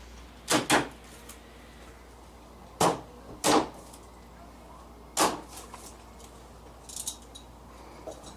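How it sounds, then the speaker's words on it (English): A few sharp wooden knocks and clunks in separated pairs, like a door frame being pushed and tapped into place, close by with quiet pauses between. "well, I'm going to put the door frame in."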